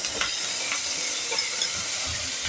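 Mustard seeds crackle and sizzle in hot oil while preparing a Kerala thoran, a steady close frying hiss with a few soft pops and stirring scrapes, no voices.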